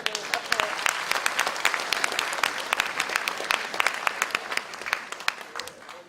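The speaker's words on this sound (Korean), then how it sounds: "모두 뜨거운 박수로 맞아주십시오." An audience at the United Future Party launch ceremony breaks into warm applause, a full, continuous clatter of many clapping hands with individual claps popping out, while a voice talks faintly underneath.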